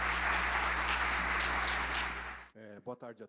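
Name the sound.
applause from conference audience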